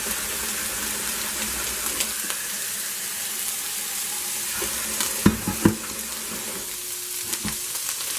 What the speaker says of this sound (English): it melts. The next thing I'm going to add to this is just a little water.